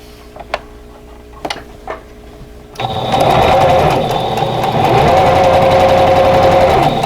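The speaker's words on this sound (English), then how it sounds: "So I'm going to sew those 2 pieces together" A sewing machine stitching two quilt pieces together starts up after a few light clicks, then runs as a loud, steady rapid mechanical whir for several seconds.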